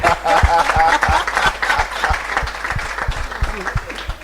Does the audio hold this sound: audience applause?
yes